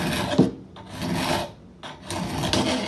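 A metal file rasps along the angled edge of a tool blade to sharpen it, giving repeated close, steady strokes with brief pauses between passes.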